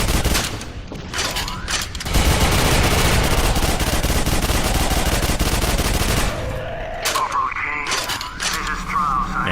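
Gunfire from a weapon in Quake 4 on Xbox 360, a loud dense burst of rapid shots sustained for several seconds in the middle of the clip, with shorter bursts and game effects before and after.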